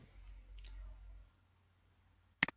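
Computer mouse clicks while working in ArcGIS software: a faint low murmur comes first, then near silence, then one sharp, loud click near the end.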